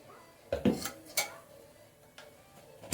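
A lid lifted off a pot of restaurant-style chicken dum biryani after resting covered off the heat, heard as a few short metallic clinks and scrapes close by, with no talk.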